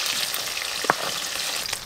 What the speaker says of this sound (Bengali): বাটা মাছগুলো একদম লাল লাল করে ভেজে নিয়েছি।